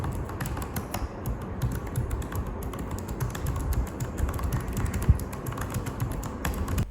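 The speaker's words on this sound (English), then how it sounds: "If you choose cherry mechanical keyboard with X17R2, make sure you get used to this sound." Rapid typing on the Cherry mechanical keyboard of an Alienware X17 R2 laptop: dense, continuous clicky keystrokes at close range, with uneven rhythm and occasional heavier presses, and no talk.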